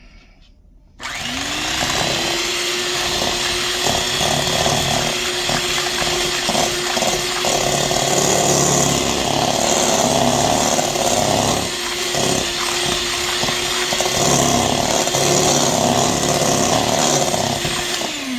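An electric mixer runs at its lowest speed while peanut butter cookie dough is prepared, starting abruptly and then holding a loud, steady motorized whir throughout, with no talking.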